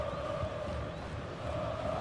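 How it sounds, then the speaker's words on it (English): A stadium crowd in a football video game roars as a steady, continuous wall of cheering noise, moderately loud and even, with no distinct individual voices standing out. "The crowd certainly think so. Just listen to them."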